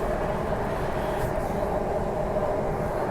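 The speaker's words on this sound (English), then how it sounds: "A train to Admiralty is arriving." A Hong Kong MTR train pulls into a station on a line bound for Admiralty, giving a steady, loud rumble and rolling roar that holds evenly throughout with no voices.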